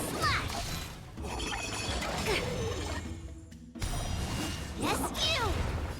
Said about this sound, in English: Rock shattering slash!